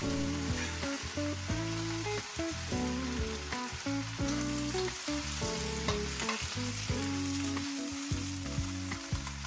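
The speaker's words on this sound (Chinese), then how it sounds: "倒入沥干的青菜，迅速转大火，快速翻炒" Chopped, drained bok choy greens sizzle and crackle steadily in a hot wok over high heat after dried chilies, with loud, continuous frying and repeated scraping tosses of a spatula throughout.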